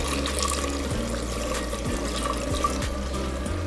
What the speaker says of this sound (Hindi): अब मैं थोड़ा सा ऐड कर रहा हूँ इसको मज़ीद गालने के लिए, इसके अंदर जो इसकी यखनी थी